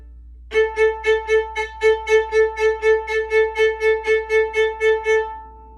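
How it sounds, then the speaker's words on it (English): Short, crisp bowed violin notes bounce off the string in a steady, quick rhythm on one pitch, about twenty strokes played alone. "you want to find the sweet spot on your bow to produce the best spiccato sound"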